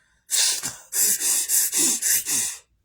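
A man imitates an angry mad bull with six forceful, rhythmic huffing breaths, each a loud close snort-like exhale separated by brief pauses, with no speech.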